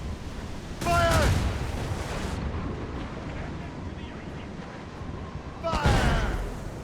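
Ship cannons in Assassin's Creed Rogue firing in two heavy booming blasts several seconds apart, over a steady rushing background of wind and sea.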